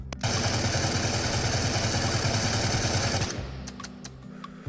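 Rapid full-auto bursts from 5.45x39 AK-74 variant rifles in the Into the Radius video game, a dense, loud, continuous stream of shots lasting about three seconds before stopping into a fading echo.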